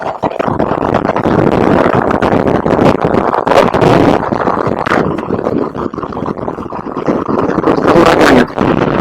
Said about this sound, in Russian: Сейчас я приоткрою каску, чтобы вы поняли, какой силой идет ветер.